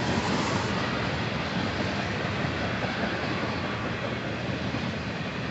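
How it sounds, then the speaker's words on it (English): Steady, loud rumble and rattle of a short northbound Union Pacific freight train, led by three UP locomotives, rolling past nearby near Stockton, with continuous wheel clatter and no break in the noise. "So like I said, not a very big train."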